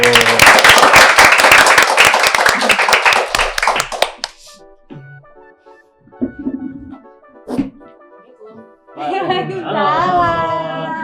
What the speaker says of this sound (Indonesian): Boleh dong tepuk tangannya dulu.